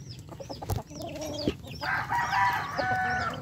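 Backyard chickens cluck and call during feeding, with a rooster-like crow rising midway, close and busy over a low background murmur.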